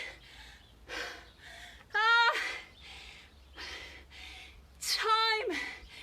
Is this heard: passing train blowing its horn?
no